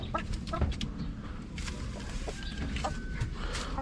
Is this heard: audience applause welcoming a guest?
no